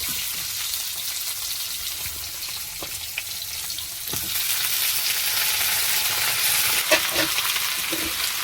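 Potatoes and mixed vegetables frying together in a pan, a continuous close sizzle that grows louder midway, with a few light stirring knocks and scrapes.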